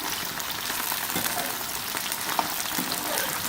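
Okra (bhindi) frying on a medium flame for a mutton-with-ladyfinger dish, a steady dense sizzle of hot oil running throughout at close range, with a few faint pops and no voices.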